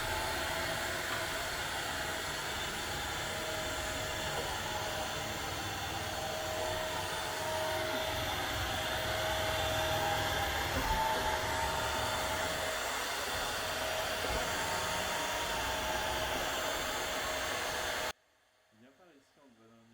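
A Mova N1 window-cleaning robot runs with a steady, loud whirring hiss that holds almost unchanged for about eighteen seconds, then cuts off abruptly into near silence.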